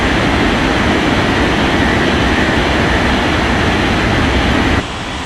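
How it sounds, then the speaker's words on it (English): A jet airliner in an air traffic control simulation game roars at full power on takeoff from runway 32 left, a loud, steady broadband rumble that drops off abruptly just before the end. "White Center Tower, Corpus 7533, ready for takeoff runway 32 left."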